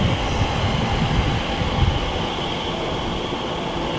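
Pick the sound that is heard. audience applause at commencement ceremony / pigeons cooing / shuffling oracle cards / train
train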